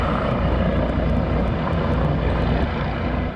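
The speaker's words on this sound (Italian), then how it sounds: "È intervenuto anche l'elicottero del SUEM 118 partito da Treviso" SUEM 118 rescue helicopter from Treviso flying overhead, a loud, steady engine and rotor drone that stays constant throughout, with no voices.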